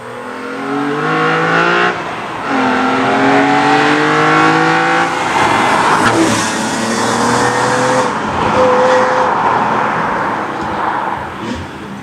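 A BMW M3 CSL's inline-six engine, tuned to 355 horsepower, revs hard through repeated upshifts in the Need for Speed Edge racing game, each gear pull rising in pitch before dropping, loud and continuous with no talk.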